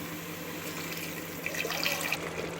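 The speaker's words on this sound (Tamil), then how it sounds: "நான் வந்து அரை கிளாஸ் வந்து தண்ணி ஊற்றுறேன்." Water from a glass is poured into a masala mixture for egg biryani, a short faint trickling and splashing that comes in midway over a low background hum.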